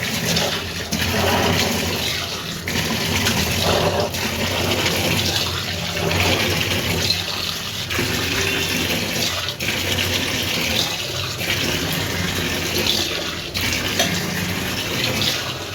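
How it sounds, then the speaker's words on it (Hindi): Water pours and splashes steadily during deep cleaning of a small home kitchen, a continuous loud rushing and spattering like a running tap that lasts the whole stretch, with brief dips and no talking. "और ये मैं यहाँ पर पानी डाल रही हूँ।"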